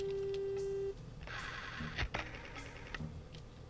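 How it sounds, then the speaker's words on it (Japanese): A black rotary telephone is dialed in the Shenmue video game, a steady tone giving way to soft clicking and whirring of the dial with a few sharper clacks, quiet and close. "黒電話。"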